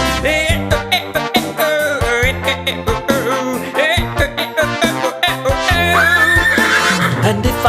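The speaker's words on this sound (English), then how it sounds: "And if it is a horse I hear," A cartoon horse whinnies over a bouncy children's song in a preschool TV dance number, the neigh rising briefly and loud amid busy music and sung vocals.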